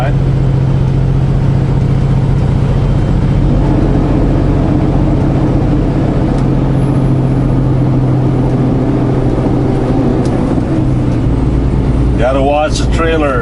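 A truck engine on US 89 near Logan, Utah drones steadily after a downshift, a loud low hum with road noise under ongoing conversation inside the cab.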